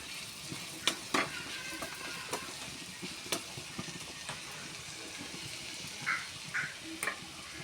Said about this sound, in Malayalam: വഴറ്റുന്നുണ്ട്